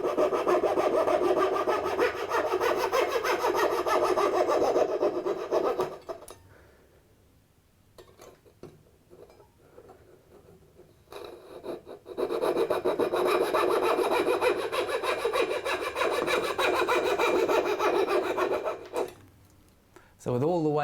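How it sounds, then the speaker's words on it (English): A jeweler's saw cuts out waste wood between houndstooth dovetails in two close bursts of fast, rasping back-and-forth strokes, separated by a quieter pause of several seconds. "Now we need to remove the waste. I use my New Concepts jeweler's saw for this."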